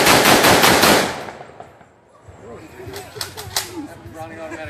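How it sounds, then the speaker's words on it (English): A Browning automatic rifle fires a loud, rapid burst at a World War II weapons demonstration outdoors, a dense stream of sharp reports for about a second before fading, followed by crowd murmur and voices. "Browning automatic rifle."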